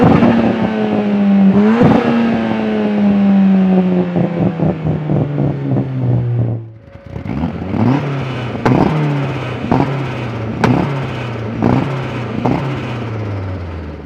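Turbocharged Ford Fiesta ST and Fiesta RS hatchback engines, 310 and 270 horsepower, rev up and down repeatedly, with sharp throttle blips, rising and falling pitch, and a pause before another engine revs loudly.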